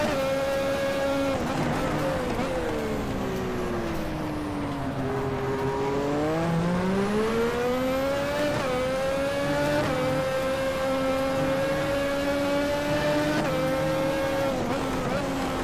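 A Formula Classic race car at Jerez in a racing video game gives a steady, loud, high engine whine that rises and falls through gear changes and revs over a continuous run, with no talking.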